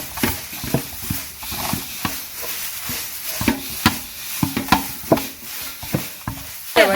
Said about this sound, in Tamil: நல்லா காய வச்சுருக்கிற முருங்கைக்கீரையை வறுக்க போகிறோம். கிண்டி விடு கரண்டியை வச்சு.